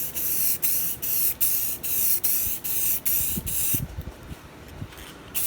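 An aerosol spray can lays down a coat of finish in quick bursts, a run of about ten sharp hissing blasts in steady rhythm, loud and close, then quieter handling noises.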